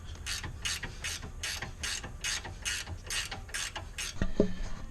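A ratchet wrench loosens red-Loctite bolts on a Chevy Equinox rear wheel bearing, giving about nine evenly spaced clicking strokes up close, followed by a short metallic clank.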